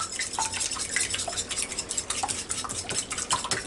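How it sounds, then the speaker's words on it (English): Two eggs being beaten in a bowl for banana nut bread, a steady run of quick light clicks and taps from utensil against bowl, close and with no talk. "now I gotta beat these 2 eggs up"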